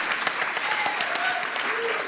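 An audience claps to welcome Sean and Patricia at a global impact forum, with dense, steady applause and a few voices and cheers mixed in.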